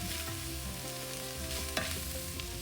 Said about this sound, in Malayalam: ഇത്രയും ചേർത്ത് നന്നായിട്ട് വഴറ്റിയെടുക്കുക